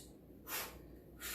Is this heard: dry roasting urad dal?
no